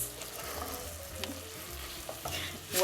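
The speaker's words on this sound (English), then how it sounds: "So let's add the garlic cloves into the celery and into" Garlic cloves stirred into celery and onions frying in a pan, a steady sizzle with scraping spoon strokes throughout, close and clear with no talking.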